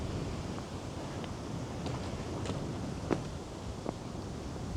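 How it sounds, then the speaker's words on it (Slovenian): Strong wind gusting across a paved mountain road near the summit of Učka, a steady loud rushing roar buffeting the microphone, with a few faint clicks and knocks underneath. "Zelo piha."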